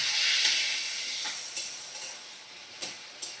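A little water splashed into a hot pan of cooking spice mixture sets off a sharp hiss that slowly fades, broken by a few brief sputtering spurts, close and alone.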